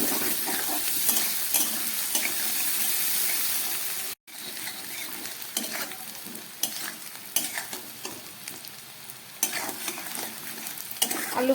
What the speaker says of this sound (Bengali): পেঁয়াজটাকে এবার একটু ভেজে নেব